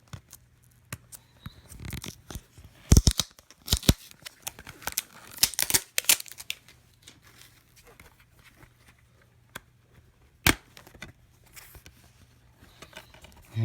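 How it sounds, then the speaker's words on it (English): A boxed Windows XP Professional 64-bit software package gets unwrapped: crinkling plastic and snapping, tearing film in irregular bursts, loud close rustles at first and then sparser clicks and handling noises. "And last but not least, we're going to unwrap the Windows XP 64-bit edition."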